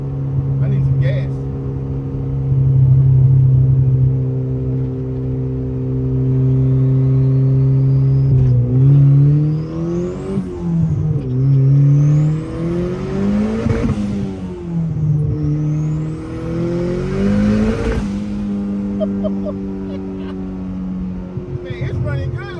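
A Honda Civic EF accelerates hard, its engine note climbing loudly and close, then dropping and rising again through several gear changes with a steady rumbling underneath.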